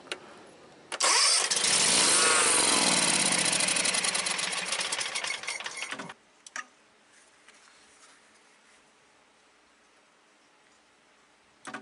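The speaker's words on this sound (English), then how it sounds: "I'm just going to give it a little fuel. It should crank and run." A small engine given a little fuel cranks and roars to life loudly, running with a harsh buzzing rattle for about five seconds before cutting out, followed by a faint clunk and near silence.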